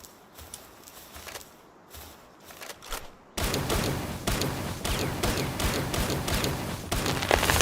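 Pistol shots ring out in a video game, sparse sharp cracks at first, then a louder, denser run of rapid bangs and clatter that keeps going to the end.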